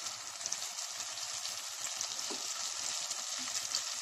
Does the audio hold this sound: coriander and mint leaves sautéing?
yes